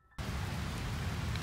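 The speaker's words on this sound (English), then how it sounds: "it's starting to rain bad" Rain suddenly starts falling outdoors beside a Central American painted wood tortoise's enclosure, a steady, dense hiss of drops that sets in abruptly and continues unbroken.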